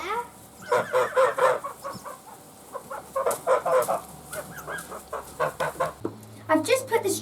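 Chickens cluck in a barn on fresh straw bedding, bursts of close, repeated clucks and squawks in uneven clusters, fairly quiet, with a low hum joining near the end.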